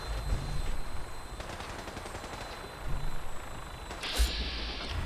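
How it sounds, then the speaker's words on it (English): In Fallout 4, gunfire rattles at a ship: steady, fairly distant automatic fire continues through the scene under a low mechanical rumble, with a sharp burst near the end. "Why are they shooting at this ship?"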